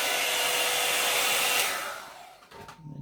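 A small handheld mini hair blower roars steadily while drying hair, then cuts off near the end, leaving faint handling noises.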